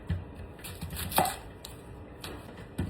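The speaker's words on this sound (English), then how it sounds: "Now I'm gonna chop up an onion, put it in there." An onion is chopped with a knife on a cutting board in a home kitchen, a few light, uneven knife strikes with one clearer thud near the middle, close and fairly quiet.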